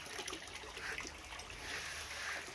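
Water drains out of a fish tank's mechanical filter in a soft, steady trickle and splash, faint and continuous with no talking over it.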